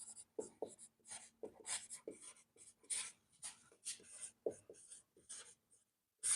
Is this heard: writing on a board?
yes